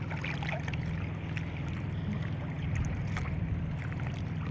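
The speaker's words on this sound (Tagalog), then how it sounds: "May dadaang bangka sa likod natin." A small boat passes behind on open water near Bantigue, its steady engine drone low and continuous under wind buffeting the microphone, fairly close and unbroken for the whole stretch.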